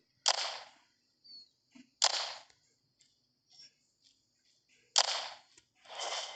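Gunshots in The Walking Zombie 2 video game: four sharp, close synthetic shots fired at uneven intervals, each a crisp crack with a short tail, with faint small game sounds between them.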